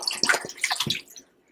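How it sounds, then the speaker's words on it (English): Water is poured over bones in a slow cooker to start a broth, giving a short, close burst of splashing and gurgling that tapers off within about a second and a half. "cover your bones with water"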